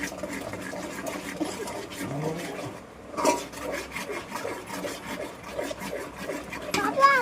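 Egg bhurji stirred in a pan, a continuous soft scraping and rubbing of a spoon against the metal with faint sizzling, close and steady for several seconds, with no talking over it.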